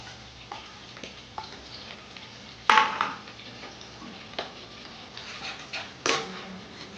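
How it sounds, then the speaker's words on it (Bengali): A spoon works through onion paste in a cooking pan for butter chicken, giving soft, sparse scraping with two sharper utensil clanks against the pan, fairly quiet and close, with no talking. "একটু সময় নাড়তে হবে"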